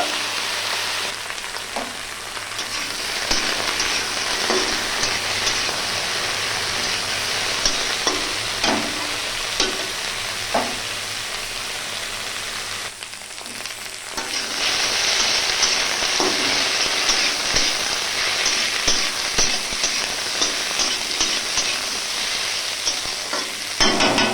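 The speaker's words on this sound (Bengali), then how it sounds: "পুঁই শাক আমি হালকা করে ভেজে নেব।" Malabar spinach (pui shak) frying lightly in a pan, a steady loud sizzle with scraping stir strokes, briefly dropping then returning stronger, with no voices.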